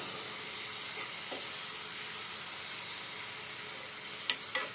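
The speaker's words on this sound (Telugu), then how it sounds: "ఉప్పు, చిటికెడు పసుపు వేసేసాను, కలిపేస్తున్నాను" Leafy greens with salt, chili and a pinch of turmeric being stirred in a pan, a soft steady sizzle with faint scraping and a couple of sharp utensil clicks near the end.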